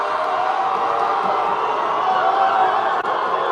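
Audience at a university graduate student union policy debate cheering and chattering as one dense, steady wash of crowd noise, with scattered chuckles and whoops and no single voice standing out.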